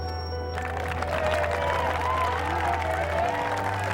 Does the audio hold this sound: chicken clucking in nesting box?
no